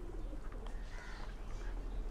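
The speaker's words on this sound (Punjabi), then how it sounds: "ਆ ਦੇਖੋ ਕਬੂਤਰ" Pigeon coos softly on a farm, a few low calls drifting over steady background noise with no talking.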